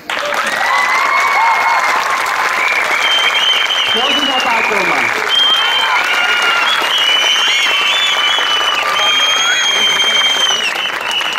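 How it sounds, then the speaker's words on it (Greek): Sustained applause from a crowd at a girls' primary school summer camp closing celebration, honouring the camp leader, loud and continuous throughout, with children's shouts and a voice speaking over it midway. "Εγώ θέλω να χειροκροτήσετε τον αρχηγό σας."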